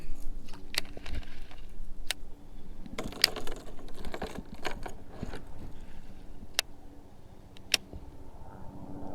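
A small fishing lure rattle shaken close by on a kayak: quick irregular clicks and ticks over several seconds, light and not very loud, with soft wind and handling noise beneath.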